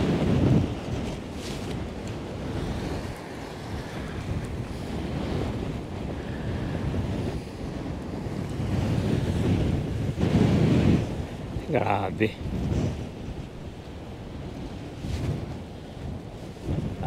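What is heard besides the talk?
strong wind and ocean waves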